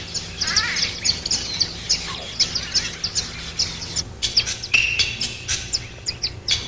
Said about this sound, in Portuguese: martinetes de garganta marrom constituem outra espécie que faz ninho em covas